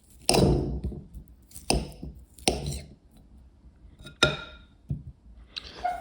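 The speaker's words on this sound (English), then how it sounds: "I'll just cut this up so that the heat can basically get to more." A knife chops through fruit cake ingredients on a board in a home kitchen, with six sharp, well-spaced strikes landing close and clear.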